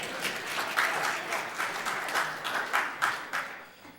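Audience in a church gathering applauds for a few seconds, a steady wash of many hands clapping at moderate volume that tapers off toward the end.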